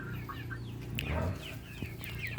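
Mocha, an upgraded native hen, clucking softly and repeatedly at close range, short throaty bursts with faint bird chirps and farmyard background.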